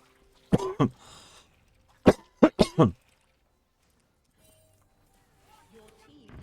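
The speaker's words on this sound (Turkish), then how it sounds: "Ulan bunda da öksürüyorum." A single cough followed by a quick burst of three or four loud, close coughs, then near silence with faint background sounds.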